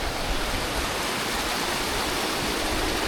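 A cool river in southern Laos near a homestay flows steadily, its broadband rushing wash holding constant and close throughout, with no voices over it.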